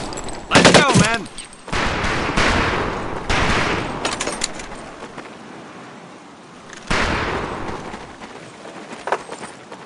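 Bursts of rifle gunfire at a shooting range in Medal of Honor: Pacific Assault come as several loud volleys of rapid overlapping shots separated by quieter gaps, with a voice speaking between them.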